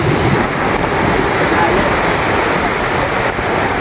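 Sea waves on a Vietnamese coastline beside flood-control walls, a loud, continuous roar of surf with heavy wind buffeting the microphone throughout.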